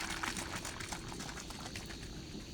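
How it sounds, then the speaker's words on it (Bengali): Poultry cold medicine mixed with a litre of water is shaken inside a spray gun, producing a faint, continuous sloshing and bubbling of liquid with no talking. "এখন এটাকে আমরা জাকাবো ভালোভাবে ওষুধটা মিশার জন্য।"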